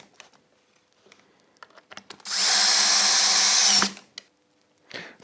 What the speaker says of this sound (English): then we'll drill and screw the other one down